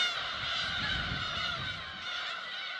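Black-tailed gulls call in a dense, continuous chorus across an island breeding colony, a loud overlapping mass of nasal cries with no single bird standing out.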